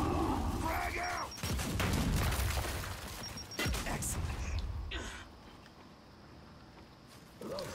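Frag grenades burst during a Gears 5 frenzy match, with a cluster of booming blasts and gunfire in the first half that fade into quieter rumble, and battle voices call out amid the chaos.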